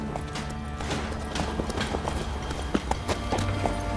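Horse hooves clip-clopping at a steady trotting rhythm, close and fairly loud over a dense background bed, with no speech.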